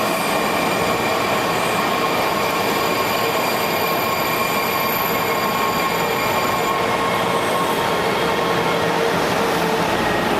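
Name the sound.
train running on rails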